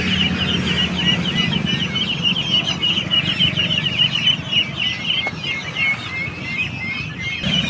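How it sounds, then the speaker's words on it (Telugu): Kadaknath black chickens, young birds among them, cluck and cheep in a busy, continuous chorus of high chirps over low clucking, close by on a poultry farm with other fowl such as ducks and turkeys. "ఇవన్నీ కడకనా బ్లాక్ అండి నల్లకోళ్ళు చూరా కడకనా బ్లాక్"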